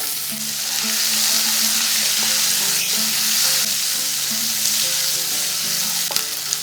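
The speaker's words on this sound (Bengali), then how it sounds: "এখানে দিয়ে দিচ্ছি রসুন কুচি, কুচি করে রাখা পেঁয়াজ," Lentils frying in a pan with chopped garlic and onion just added, a loud, close, steady sizzle with light stirring scrapes throughout and no voices.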